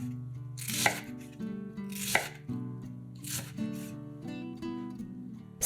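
A knife chops ready-made Korean-style carrot into smaller pieces on a board, with a few distinct crisp cuts spaced about a second apart over soft background music.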